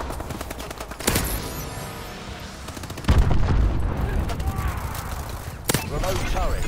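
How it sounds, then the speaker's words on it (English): Heavy booming impacts from friendly missile strikes in Call of Duty Advanced Warfare, arriving as sharp loud blasts spaced a couple of seconds apart amid rattling gunfire and a voice talking over the battle. "Friendly missile strikes incoming"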